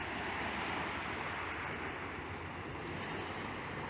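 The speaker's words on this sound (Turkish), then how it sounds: "dalga seslerini duyabiliyor musunuz ama ben duyabiliyorum" Steady wash of Aegean surf rolling onto a beach at Plomari on Lesbos, a continuous broadband roar with no clear breaks, fairly close and with no voices.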